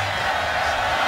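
A stadium crowd at an Oklahoma college football game against Kansas State roars in a dense, continuous wash of cheering, loud and sustained with no break.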